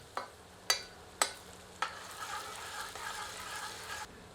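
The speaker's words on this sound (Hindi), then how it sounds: "आंच को मध्यम कर लेते हैं और प्याज को तब तक भूनते हैं जब तक कि प्याज सुनहरे रंग की नहीं हो" Onions frying in a pan over medium heat, a steady sizzle punctuated by a few sharp stirring clacks near the start, close and moderately quiet, with no voices.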